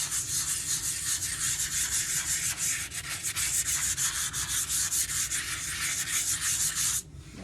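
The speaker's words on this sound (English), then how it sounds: "So by giving it a little light sanding in a circular motion," Light hand sanding of a sealed wooden sign board in a circular motion, a continuous close rasping rub with steady rhythmic strokes that stops abruptly near the end.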